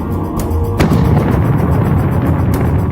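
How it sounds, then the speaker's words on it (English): A sharp bang followed by a loud, roaring rumble of a rocket booster firing, sustained and powerful, before burning out quickly. "They go off with a bang and burn out quickly."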